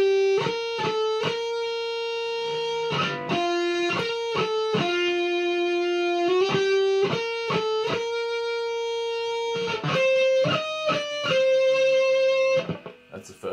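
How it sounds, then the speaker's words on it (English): Electric lead guitar plays a distorted melodic line of sustained and quickly picked notes over power chords in a shred-style metal piece. The playing is loud and continuous, ending in a short fade. "you then have a lead guitar going over the top, which sounds like this"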